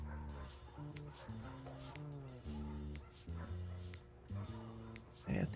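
A dog in a video game barks in a rapid series of about a dozen loud, close, evenly paced barks, with a few short yelps near the end.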